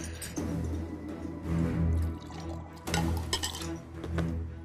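Drinking water poured into a glass indoors, a steady liquid fill with faint clinks of glass, close and moderately loud, lasting a few seconds with no talk.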